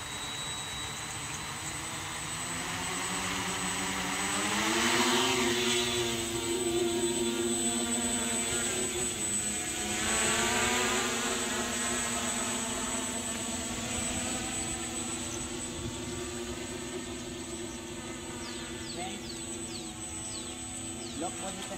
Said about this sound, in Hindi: Drone arm.